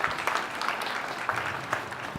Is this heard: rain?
no